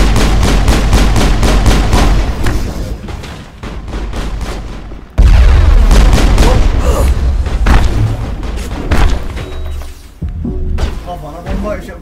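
Bomb explosions and gunfire in the video game Mass Effect thunder as loud, repeated booms and bursts, nearly continuous and close.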